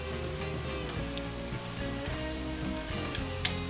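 Chicken sizzles steadily on a propane gas grill, a dense, even crackle and hiss held at a constant close level throughout, with a few brief pops and no voices.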